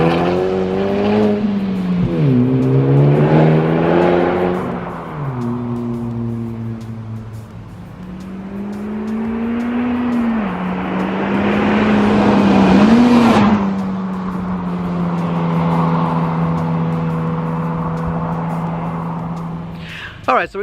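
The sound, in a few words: Honda Civic Type R driving, exhaust sound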